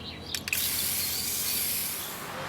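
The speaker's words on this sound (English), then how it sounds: "I'm going to spray the bottom of this in silver metallic" A PlastiKote silver metallic spray paint can sprays the bottom of a Christmas belly basket: a couple of short clicks from the nozzle, then a steady, close, continuous hiss that holds to the end.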